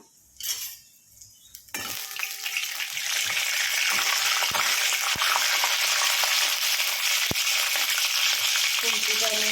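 Panch phoron and dried red chilli dropped into hot oil for pumpkin greens: after a quiet start with a soft clink, a loud sizzle bursts in and holds steady, close, with occasional utensil clinks.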